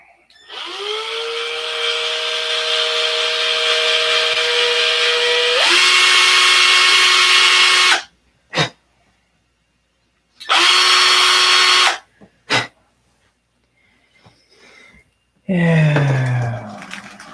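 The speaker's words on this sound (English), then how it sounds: "Take a drill hole down through it" A power drill whines in long sustained bursts, rising in pitch as it speeds up, then stops and restarts with short blips in between.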